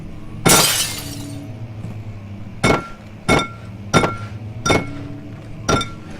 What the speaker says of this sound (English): We break the glass.